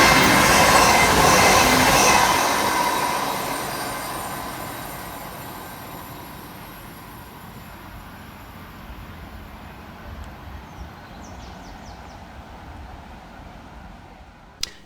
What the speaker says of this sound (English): Next to pass through the station for Transport for Wales is 197014 and 197047, working 1 Whiskey 14 from Carmarthen through to Manchester Piccadilly